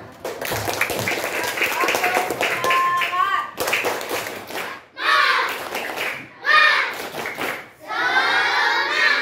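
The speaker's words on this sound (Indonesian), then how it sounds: "Tepuk tangan." A group of children clapping their hands in a classroom, several loud bursts separated by short pauses, with voices mixed in.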